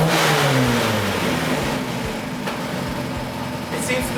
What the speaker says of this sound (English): I'm going to blip the throttle real quick